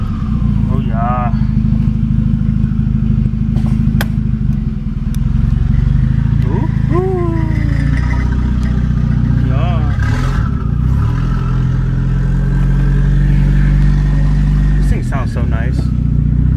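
Volvo 760 Turbo car driving with a strong, steady engine drone, rising and falling as it accelerates and the boost comes up, with turbo whooshes and a person talking over the engine noise.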